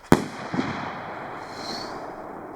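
A firework rocket shell launches with a sharp crack, a second pop follows half a second later, then a fading hiss and faint crackle trail off at a distance in open air.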